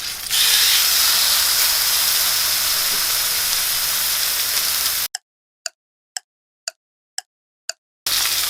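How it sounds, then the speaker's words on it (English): Beef and mushrooms searing in oil in a cast iron pan give a loud, steady sizzling hiss for about five seconds, then a gap broken by six short evenly spaced clicks before the sizzle returns. "We're going to sear and cook our beef and mushrooms in the cast iron"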